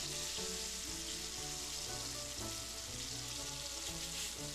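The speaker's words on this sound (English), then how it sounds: "place your fillets. You want to cook them for about 3 minutes on each side or until firm" Yellowspot papio fish fillets sizzle steadily in a hot pan, a dense, continuous frying hiss that stays loud and even throughout, with no talking.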